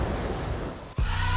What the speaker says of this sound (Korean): 그냥 잔잔한 바다가 아니라 파도가 있는 바다잖아요